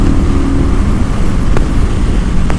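A Kawasaki Vulcan 900 Custom motorcycle at full throttle on the road, a loud, steady, dense engine roar with rushing wind, continuous throughout.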